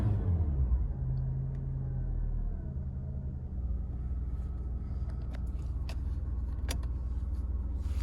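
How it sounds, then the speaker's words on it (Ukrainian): A Skoda Octavia engine idles with a steady low rumble, revs holding even, close by, joined by a few faint clicks and taps. "Автомобіль заводиться з півоберту, оберти не плавають."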